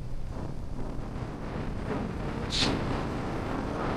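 Wind rumbles and buffets against the microphone in low gusts, with a brief hiss partway through, outdoors and without talking.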